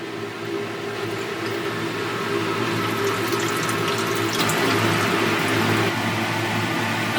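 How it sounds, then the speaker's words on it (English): Running tap of distilled water rinsing metal pieces after a nitric acid soak, a steady close splashing and gushing stream that continues throughout with no talk. "Give it a quick rinse with some distilled water here"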